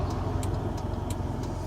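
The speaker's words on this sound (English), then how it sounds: "The car's going a little bit faster than I thought." A Smart City Pulse car drives along, its low steady road and engine rumble joined by faint regular ticking, most likely the indicator, with no talking.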